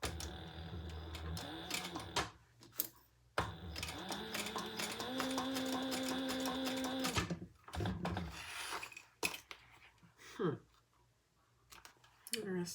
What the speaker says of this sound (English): Turn it over, and we're going to just stitch along the side